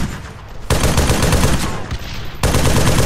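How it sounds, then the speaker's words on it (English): Heavy automatic gunfire in a multiplayer military shooter game, loud sustained bursts of close, rapid shots with a brief lull, then firing resumes. "Shots fired, shots fired!"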